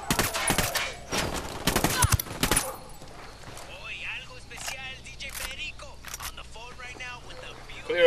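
Gunfire in the Ghost Recon Wildlands video game: several sharp, loud shots crack in quick succession over the first two and a half seconds, followed by quieter in-game sounds and radio-style voice chatter.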